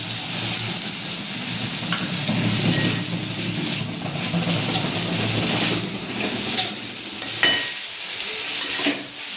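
Bitter gourd frying loudly in a pan with added peanut powder and garlic makes a close, continuous sizzle and hiss, broken by stirring scrapes and a few sharper clatters toward the end.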